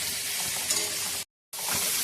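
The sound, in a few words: fish masala sizzling while being sautéed in a pan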